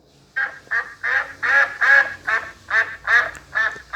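A duck quacks from a phone soundboard app built in App Inventor, about nine clear, evenly spaced quacks in a steady run, moderately loud and alone.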